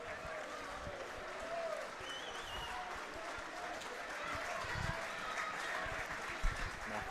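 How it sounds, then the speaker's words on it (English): Football supporters at Somerset Park applauding a player as he walks off toward the dugout, distant crowd clapping mixed with general stadium noise and a commentator talking over it. "Marco Roos taking the applause of the Somerset Road end on the way past as he makes his way back to the dugout."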